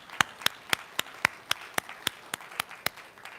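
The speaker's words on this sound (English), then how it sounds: "Give yourselves a hand" A small audience claps in a loose, fairly even rhythm, about a dozen sharp, distinct claps over a few seconds at a church service, with no talking over them.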